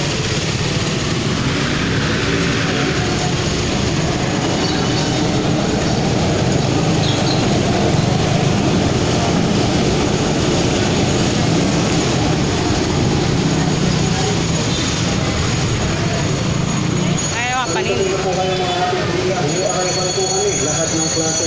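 An LRT train rumbles past overhead at Baclaran station with a continuous heavy roar and metallic squeals, amid busy street noise and people talking nearby.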